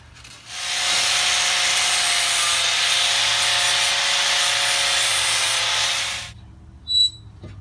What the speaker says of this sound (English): I'm going to give that a quick grind and then get it back on the bench for some measurements